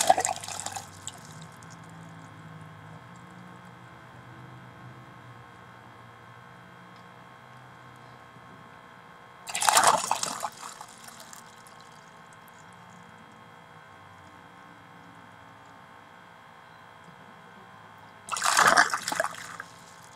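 A low-power airlift geyser pump surges water out in bursts: a splashing gush at the start, then two more about nine seconds apart, each a few seconds of gurgling outflow, with a faint steady hum between surges.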